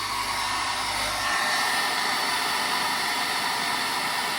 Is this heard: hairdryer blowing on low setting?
yes